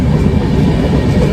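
Loud, steady rumble and clatter inside a moving passenger train carriage on the Hyderabad to Chennai route, a continuous low roar of wheels on rails.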